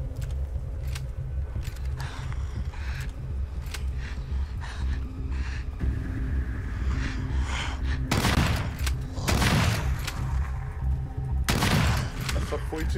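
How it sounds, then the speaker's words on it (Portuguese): Gunfire in the video game Daymare: 1998 crackles in bursts of rapid shots, with heavier volleys near the end over a constant background din. "O tiro passou entre os dois, mano."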